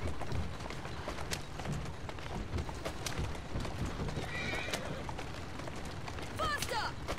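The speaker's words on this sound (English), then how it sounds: "I'm whipping the hell out of this horse." A horse galloping and neighing in the video game Assassin's Creed, rapid steady hoofbeats throughout with a sharp whinny near the end, set against game ambience and a voice speaking over it.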